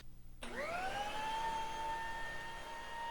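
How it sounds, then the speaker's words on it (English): A 10-inch wide jointer starts up with a rising whine and settles into a loud, steady high-pitched cutterhead hum while flattening one face of a wood workpiece at a very shallow depth of cut, about 1/64 inch. "the first step is to flatten one side on the jointer, setting the depth of cut very shallow"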